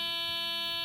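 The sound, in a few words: Mercedes 420 SEL warning buzzer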